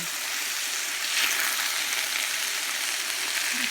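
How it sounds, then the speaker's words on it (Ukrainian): Continuous loud sizzling of vegetables, including peppers, frying in sunflower oil, close and steady, with faint crackles and no talking. "До такого стану я підсмажую солянки, перчик."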